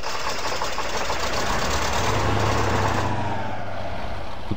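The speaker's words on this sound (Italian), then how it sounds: "Avviamo il motore." In the off-road video game Spintires, a Jeep's engine fires up and runs as a loud, dense mechanical clatter, then settles into a deeper, steady idle hum partway through.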